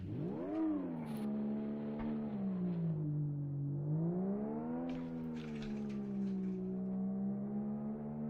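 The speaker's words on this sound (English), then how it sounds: "The sound this car makes." Road car engine in a racing simulator game, a steady droning tone that rises and falls smoothly as revs change, continuous and moderately loud without talk.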